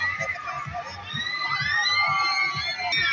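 A crowd of people screams and shouts at an amusement park ride at Chaman Park by Askari Lake in Multan, a sustained mix of high excited cries and voices that rises and holds throughout.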